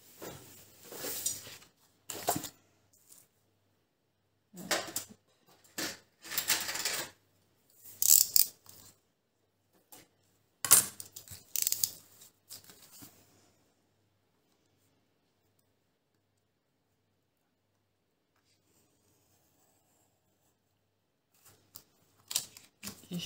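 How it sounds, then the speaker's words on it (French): A craft knife with a fresh blade scores short lines into paper for a photo album, making a series of quick, crisp scratching strokes in separate bursts, close and fairly quiet, followed by a long pause and a few more strokes at the end. "J'ai changé ma lame, donc il coupe super bien."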